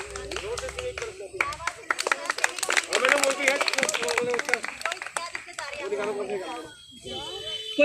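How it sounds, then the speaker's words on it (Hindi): A class of children clapping for Rani, a burst of loud applause that stays dense for several seconds, then thins into scattered claps, with voices heard near the end. "रानी के लिए ताली बजाएंगे।"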